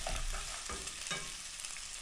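Pork ribs stir-fried in hot oil in a small pot on a stove, giving a steady close sizzle with several sharp scraping stirs of the spatula.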